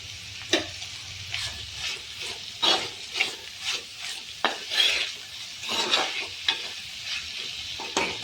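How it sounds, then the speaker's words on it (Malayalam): Onions sautéing with salt in a hot pan for chicken curry, steady sizzling broken by repeated scraping strokes of a metal spoon against the pan, close and clear with no talking. "സവാളയും ഉള്ളിയൊക്കെ വഴറ്റാൻ ആവശ്യമുള്ള ഉപ്പും കൂടി ചേർത്ത് കൊടുക്കാം"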